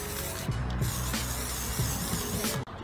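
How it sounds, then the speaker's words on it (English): A close, continuous hiss of a spray paint can coating a makeup stand, held for nearly three seconds before cutting off abruptly. "I'm gonna give it one more spray."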